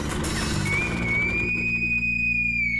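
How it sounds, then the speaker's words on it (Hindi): A police inspector blows a whistle in one long, steady, piercing tone lasting a couple of seconds, loud and close over a busy background of noise. "और जब मैं सीटी बजा रहा था वो भी सुनाई नहीं दिया?"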